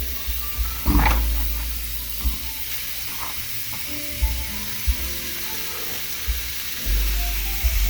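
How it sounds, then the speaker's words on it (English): Round steak for a Philly cheesesteak sizzles loudly in a hot pan, a dense, bright hiss close by, punctuated by a few low thumps and knocks as the meat is moved. "So let's put our round steak in here."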